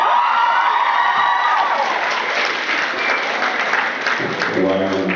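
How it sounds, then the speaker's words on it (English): A convention panel audience bursts into loud applause with cheers and whoops, the clapping filling the room for several seconds before a speaking voice cuts in near the end. "Why are you applauding?"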